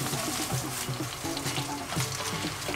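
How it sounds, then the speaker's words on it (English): Onions fry in palm oil that is not very hot, making a soft, continuous sizzle with light bubbling under a dense hiss, fairly close and without talking. "So let's move on to the palm oil. That's you don't need to leave it too hot. Just add some onions to it."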